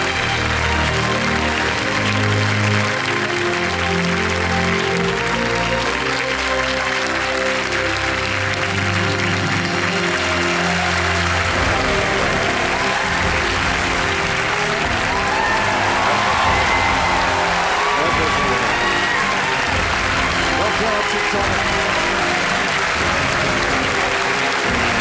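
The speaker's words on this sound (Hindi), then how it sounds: "डॉक्टर अच्युत सामंत का तालियों के साथ अभिनंदन किया जाए।" A studio audience on the KBC TV quiz show applauds loudly and continuously for the full stretch, a dense steady wash of clapping with slight cheering.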